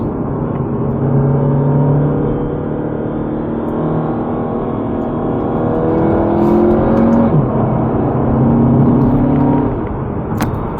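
A 2023 VW T-Roc R-Line accelerating in sport mode with paddle-shifted gears, the engine note climbing steadily and stepping through shifts, loud and close throughout with no talking.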